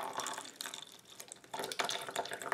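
Liquid from inside a squishy pudding or flan stress toy pours into a small cup, giving a run of close wet trickling and dripping sounds with no talk.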